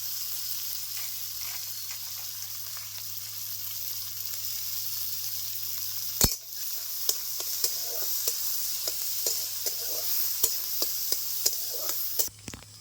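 Chopped onions and green chillies sizzle and crackle steadily in hot oil, loud and close, with a sharp clatter midway and occasional scraping of stirring after it.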